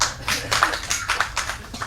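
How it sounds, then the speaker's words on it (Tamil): A few people clap at a Tamil film press meet, making a thin, uneven patter of about a dozen claps that stays close and moderately loud. "இப்படி ஒருத்தர் 2 பேர் கைதட்டுறீங்கல்ல"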